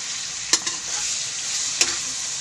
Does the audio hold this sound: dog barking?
no